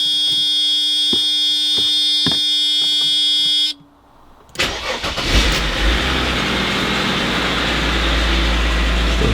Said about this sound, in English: And there's that noise from the bad belt tensioner.